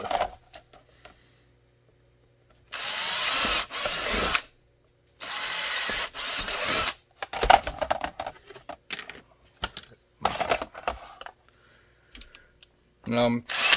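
A power drill whirs in several short bursts, separated by pauses, clicks and handling noises close by.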